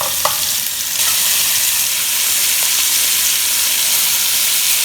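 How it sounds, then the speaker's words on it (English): Oxtail pieces frying in a hot pan seasoned with allspice: a loud, steady hiss of sizzling oil, opened by a short clatter as meat goes in, with no speech. "Now I'm going to add the oxtail"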